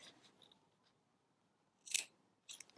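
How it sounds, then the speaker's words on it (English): Scissors snip through two layers of cloth while an adjustable waistband is sewn, giving a few quiet, close crunchy cuts in short bursts, with a pause between them. "I'm cutting through 2 layers of cloth"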